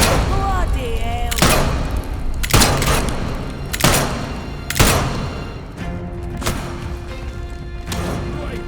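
Gunfire from a gun in the game Atomfall, several heavy booming shots spaced roughly a second apart, loud and near, with voices talking over and between them.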